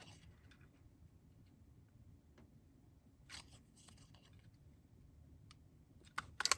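Scissors snip through paper while a football shape is cut out, a few quiet irregular cuts with small clicks and rustles, growing sharper and louder near the end.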